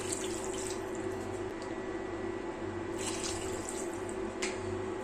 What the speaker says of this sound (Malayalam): ഇനി നമുക്കിതിലേക്ക് ആവശ്യത്തിന് വെള്ളം കൊണ്ട് ചേർത്ത് കൊടുക്കണം.